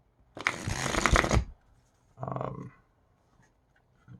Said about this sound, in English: This was definitely the easiest out of them to shuffle, though.